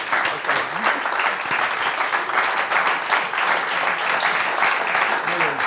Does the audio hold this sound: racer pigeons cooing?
no